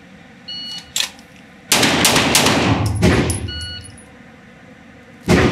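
Sig Sauer handgun fire on an outdoor shooting range: loud, close sharp shots with clanging, ringing steel-target impacts trailing after them, a faint bell-like ding and no talk.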